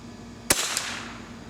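A single sharp crack from a Marlin XT22 .22 rifle, close and loud, followed by a short echoing tail and a faint secondary report.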